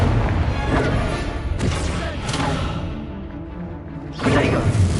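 An Incendio fire spell goes off in the Hogwarts Legacy video game as a series of loud booming, whooshing bursts over a dense game soundscape, with a heavy burst returning near the end.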